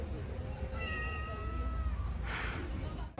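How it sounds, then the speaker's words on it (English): Stray cat on a street in Batroun, Lebanon, giving a few drawn-out meows over steady outdoor background noise, with people talking nearby. "he's a cute trash kitty."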